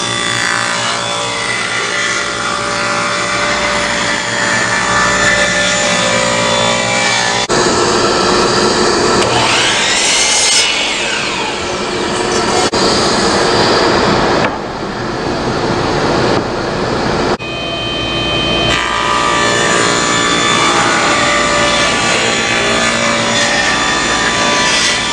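Saw ripping scrap wood stock into 1.5 inch strips, a loud continuous whining cut with shifting tone as boards feed through and brief gaps between passes; no talking.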